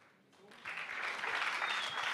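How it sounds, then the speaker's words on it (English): An audience at a media expo event breaks into applause, rising from a faint start into steady, full clapping from a crowd that carries on to the end. "Another round of applause for him, please."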